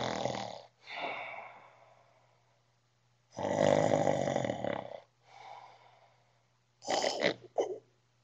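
A voice imitates the snoring of a person with sleep apnea: harsh, rattling snore bursts come in uneven rounds, with a long loud one in the middle and short snorting gasps near the end.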